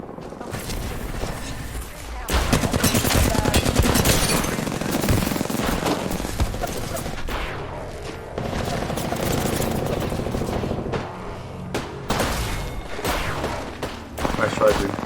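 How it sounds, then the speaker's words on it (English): Rapid video game gunfire rattles loudly almost throughout a shooter match, with dense bursts of shots, explosions and action sounds crowding the mix and a few brief lulls between volleys. "Getting shot at."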